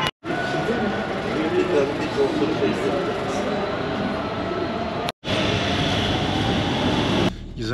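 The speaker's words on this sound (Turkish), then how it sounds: "Kahire'de bir metro sistemi var. Şimdi orada bir durağındayım." A Cairo metro train rumbles at a station with a steady loud roar and whine, briefly cut out twice, while people talk over it.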